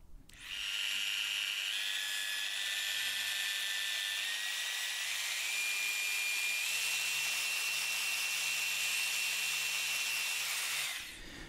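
A Dino Kraftpaket 74mm eccentric polisher works over car paint with a continuous high-pitched whine that shifts slightly in pitch as it presses on, running for about ten seconds before switching off, with no talking.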